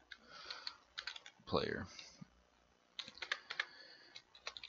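Rapid typing on a computer keyboard, soft clustered key clicks in bursts, with someone speaking briefly over part of it.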